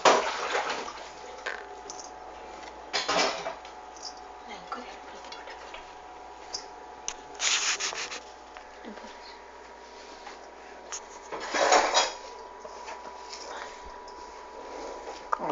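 Shredded cabbage and carrot are tossed and stirred in a bowl for Manchurian, producing soft, wet rustling with a few louder scraping bursts at intervals over a faint background.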